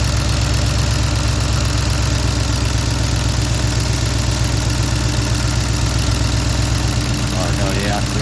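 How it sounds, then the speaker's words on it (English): Engine idling in a car with a scat swap, a loud, steady, rumbling drone close by, with a brief shift in the idle near the end and talk mixed in. "You can hear the idle change too when I move it."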